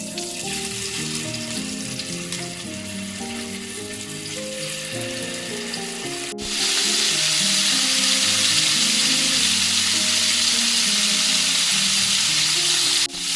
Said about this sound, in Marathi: तेल तापलंय आपण आता एक एक प्रॉन्स तेलात सोडूया